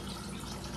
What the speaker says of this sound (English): Refilling their water jug